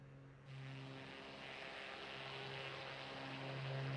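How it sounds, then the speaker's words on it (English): Cessna 185 propeller engine in a flight simulator video game, a steady droning hum that starts abruptly and slowly swells in loudness, fairly quiet and continuous, with no talking. "I really enjoy flying the Cessna 185."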